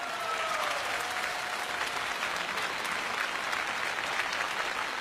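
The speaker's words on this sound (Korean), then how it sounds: "박수로 맞아주시죠." Audience applause welcoming a guest on a Korean quiz program, a steady dense crowd clapping that fills the room for several seconds without pause.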